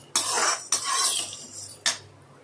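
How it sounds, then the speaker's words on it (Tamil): Urad dal being stirred as it roasts in a pan, three short bursts of dry scraping and rattling from a spoon against the pan, close and fairly quiet. "அதனால் கிளறி விட்டுக்கிட்டே இருக்கணும்."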